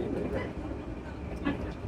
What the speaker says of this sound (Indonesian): Kita naik kereta eksekutif karena tiketnya adanya ini.